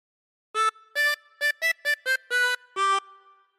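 A 24-hole tremolo harmonica plays the opening of We Wish You a Merry Christmas in eight clean, wavering notes, some short and some held, alone and close.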